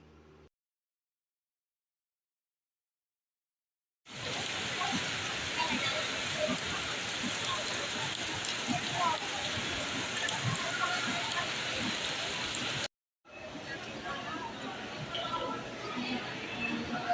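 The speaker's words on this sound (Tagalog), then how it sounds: "biglang umulan at ang lakas ng ulan" Heavy, sudden rain at Manila Ocean Park pours as a loud, dense, steady hiss. It starts abruptly after several seconds of silence, cuts out briefly, then resumes.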